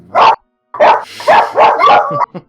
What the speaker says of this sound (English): is when the dogs start barking